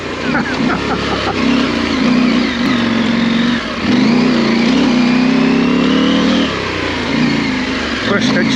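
KTM 790 motorcycle engine revving while ridden off-road, loud and close, with the pitch swelling and dipping through several throttle changes and a voice talking over it.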